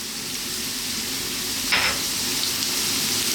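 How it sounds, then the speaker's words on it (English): Cumin seeds hit hot oil in a pan of frying potatoes, bringing a steady close sizzle and crackle with a brief brighter hiss burst partway through. "We're now going to add in those cumin seeds"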